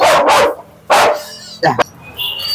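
A dog barks at an animal market in Katabon, Bangladesh: two loud, close barks, a third after a short pause, then a brief yelp, with faint market noise in between.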